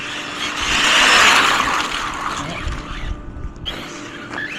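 Rlaarlo XTS-S10 rally RC car fitted with an AK-787 motor and ESC, whining loudly as it accelerates up to speed, peaking early then easing off into quieter bursts with a couple of brief sharp noises near the end.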